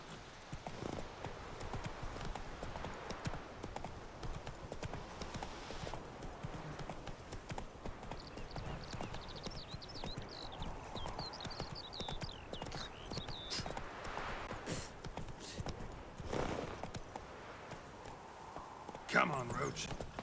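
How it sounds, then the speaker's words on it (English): Horse hooves clip-clop on the ground in The Witcher 3 video game, a steady walking rhythm under game music and ambience, with a brief voice near the end. "Whoa there, Roach."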